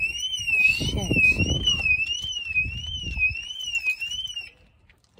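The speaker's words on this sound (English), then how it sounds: "Then they set my fucking alarm off." A car alarm wails with a steady warbling, rising-and-falling tone for about four and a half seconds, loud and close, with a voice talking underneath before it cuts off.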